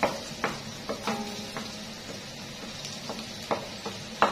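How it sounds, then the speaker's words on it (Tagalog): Garlic sautéing in butter in a pan produces a moderate crackling sizzle, with a series of sharp metallic spoon taps and scrapes at irregular intervals over it; nobody speaks. "Yan, butter. Then guys, lagay na natin ang ating bawang."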